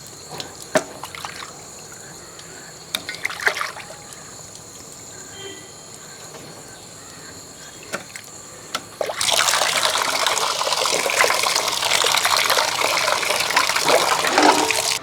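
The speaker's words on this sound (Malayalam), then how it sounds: "അപ്പം നല്ലപോലെ കുറേ പ്രാവശ്യമായിട്ട് കഴുകി വൃത്തിയാക്കി എടുത്തു" Fish pieces being washed repeatedly in a kitchen for curry, with scattered splashes and clinks early on, then a steady loud rush of running water filling the second half.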